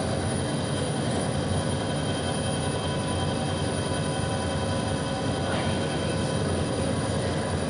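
A helicopter in flight, heard from inside the cabin as a loud, steady, unbroken roar of engine and rotor noise.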